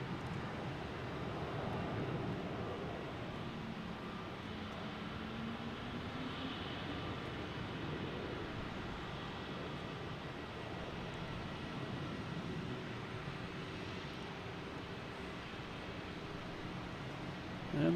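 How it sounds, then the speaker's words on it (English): A Delta Embraer E175 jet taking off at Boston Logan Airport, heard as a broad, steady engine roar at a distance that holds evenly throughout. "We have a Delta taking off E175 heading to"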